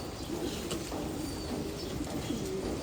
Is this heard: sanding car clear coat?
no